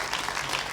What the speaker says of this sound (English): Big round of applause for Cheryl and her team.